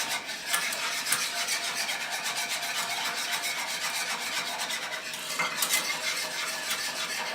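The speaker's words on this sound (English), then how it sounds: "Keep that heat on low. You don't want to burn it. Kind of whisk it together." A whisk scrapes steadily around a pan of chocolate sauce over low heat, producing a close, continuous rhythmic metallic rubbing with no talk.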